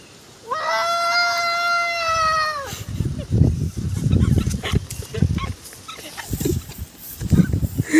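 A voice imitates an elephant's trumpeting call in one long, loud, wavering blast lasting about two seconds, followed by rustling and muffled crowd noise.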